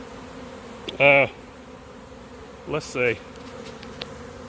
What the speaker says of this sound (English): these balls of bees that will start isolating themselves from each other